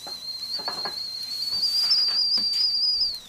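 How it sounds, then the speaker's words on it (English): A kettle whistles with a single sustained high-pitched tone that rises slightly and holds for about three seconds before fading, with faint background clatter and no talk. "The kettle's on."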